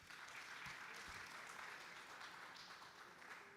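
A conference panel audience gives a continuous wash of applause, faint and distant-sounding, lasting a few seconds with no voices over it.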